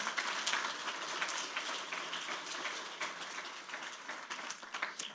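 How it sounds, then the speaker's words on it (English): Audience applause at a startup pitch competition, a dense patter of many hands clapping that holds steady and slowly tapers over several seconds, heard from a moderate distance. "Let's give all three of these companies a big round of applause for the progress they've made."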